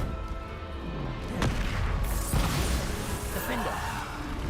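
Bombarda explosion spell cast in the video game Hogwarts Legacy: a sharp blast near 1.4 seconds and another burst around 2.2 seconds over dense, continuous game-combat noise.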